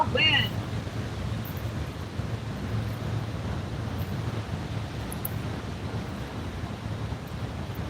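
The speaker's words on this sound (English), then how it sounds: "I hope you can hear me over the wind." Steady wind buffets the microphone at a windy lakeside carp fishing spot, a constant low rumbling roar throughout, with faint water lapping underneath.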